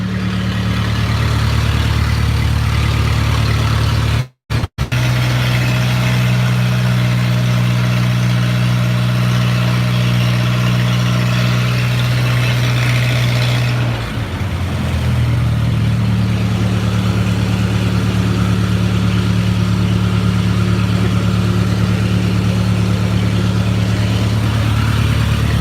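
An engine-driven shop machine without a muffler idles loudly and steadily, a deep throbbing drone with a brief dropout near the start and a slight dip in pitch midway.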